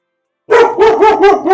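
A dog barks in four quick, loud, close bursts after a moment of silence.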